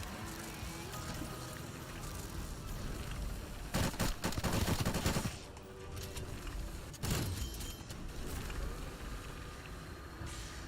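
SMG gunfire in a Call of Duty zombies match, with two dense bursts of rapid shots over a steady game soundscape and no talking.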